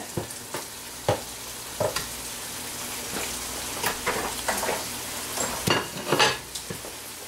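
Meat sizzles steadily in a pan, close by, with a soft crackling bed and irregular scraping stirs or spatter pops scattered throughout, growing busier toward the end; no one speaks.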